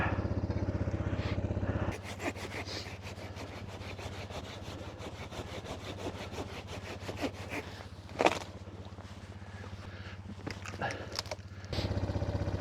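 A saw cuts steadily through a log lying across a snowy forest trail where a Yamaha ATV is being ridden, its close, even strokes running for about ten seconds between stretches of a low idling engine.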